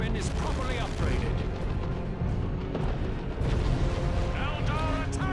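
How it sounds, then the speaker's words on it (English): D-Cannon artillery firing in the strategy game Dawn of War II: Retribution, heavy repeated booms and blasts amid constant battle noise, with someone talking over the action. "D-Cannon right here."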